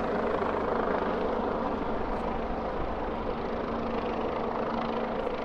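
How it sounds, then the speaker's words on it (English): Steady low rotor drone of a helicopter flying overhead in Cobble Hill, Brooklyn, New York City, fills the clip, constant and fairly loud, with a faint hum on top and no talking. "Helicopter, go away."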